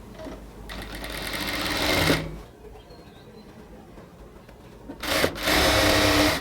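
An electric sewing machine stitches a folded fabric hem on a ladies' pant in two bursts of fast, loud buzzing whir, separated by a quieter pause of handling sounds.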